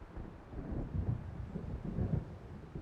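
Thunder rumbles in the video game Alan Wake, a deep rolling storm with swelling low booms, heard alone without talk.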